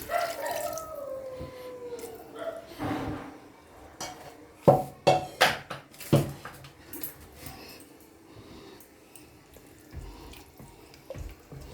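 Hot water is poured into mutton masala curry in a pot, making a running, splashing pour with clinks of metal utensils. It is fairly close and has no speech.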